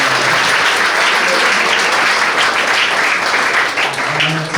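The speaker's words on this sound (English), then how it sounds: "So again, if we could applaud for them." Sustained applause from a banquet audience at a boys varsity soccer team banquet, dense and steady for the whole stretch, with a few voices faintly mixed in.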